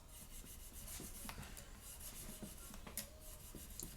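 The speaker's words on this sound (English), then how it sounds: "We're just trying to polish it and get any kind of corrosion or grit or dirt or whatever is on here off" Guitar frets being polished to strip corrosion and grit, a quiet continuous rubbing and rasping with small scrapes, close and faint.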